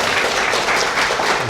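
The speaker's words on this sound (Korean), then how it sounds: "또 다시 한번 박수 또." Audience applause after a talk show, a brief burst of dense clapping throughout, fairly close and loud, with no talking.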